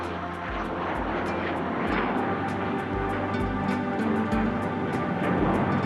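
An English Electric Canberra bomber flies at an air force anniversary airshow, its loud, continuous engine roar filling the air with a steady, rhythmic pulsing throughout.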